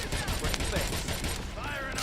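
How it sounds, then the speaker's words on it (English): An explosion in a video game is buried in a dense, unbroken wall of action noise with rapid gunfire-like crackle throughout, and voices are faintly mixed in. "Why is there just a random explosion?"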